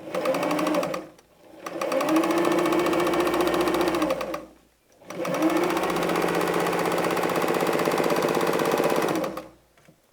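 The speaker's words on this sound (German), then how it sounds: "Und wir nähen." A sewing machine stitches a patchwork seam on a nine-patch quilt block, running in three steady bursts separated by two short pauses, close and clear, with no voices.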